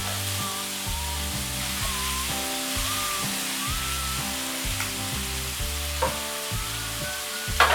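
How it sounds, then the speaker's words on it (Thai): Pork stir-frying in a pan for a Thai dish with spring onions, soy sauce going in as it cooks, giving a steady, close sizzle and scraping stir that runs throughout beneath background music. "ก็ผัดไปเรื่อยๆนะครับว่าแล้วก็ใส่ซีอิ๊วขาว"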